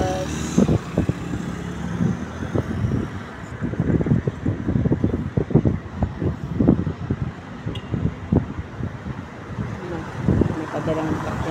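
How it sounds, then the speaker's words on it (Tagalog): Strong gusting wind roars and buffets close to the microphone in uneven bursts throughout, with no voices. "Mahangin na sa labas. Malakas ang hangin."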